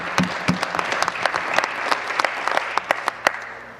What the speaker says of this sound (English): I heard a clap.